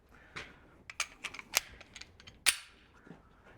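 A cheap air gun fires in a short series of sharp, snappy cracks with small clicks between them, close and fairly quiet, spaced irregularly over a few seconds with no talking.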